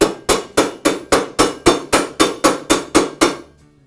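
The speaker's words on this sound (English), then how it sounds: "You can even use the back of a screwdriver to lightly tap it into place on the blade." The back of a screwdriver taps a blade adapter ring into place on a DeWALT miter saw blade: about a dozen sharp, evenly spaced metallic knocks, close and loud, with no voices.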